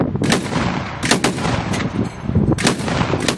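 Gunfire and artillery echo from around newly taken villages in mountain terrain during a military operation, sharp cracks and booms arriving in irregular bursts, some near and loud, others more distant.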